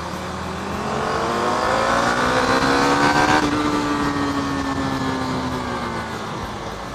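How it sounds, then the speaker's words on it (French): A motorcycle, a step up from a 125, pulls through the gears while overtaking, its engine whining upward in pitch under heavy wind rush, loud and continuous with no talk. "Je ne sais pas si on entend le bruit de la moto"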